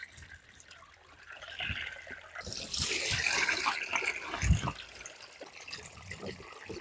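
A motor pumps water for a turmeric irrigation line, giving a soft gush and splashing trickle that swells in the middle and then settles, with brief drips and light knocks and a voice speaking faintly at times.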